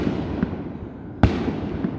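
A single distant firework bang pops out of a steady background rumble, brief and moderately loud.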